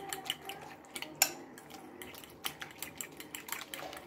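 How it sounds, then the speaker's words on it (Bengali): Eggs with salt and onion are beaten in a bowl for an omelette, a fork or spoon clicking and tapping against the bowl in quick irregular strokes, close and fairly quiet, with no voices. "এটাকে আমি ভালোভাবে এবার মিশিয়ে নেব"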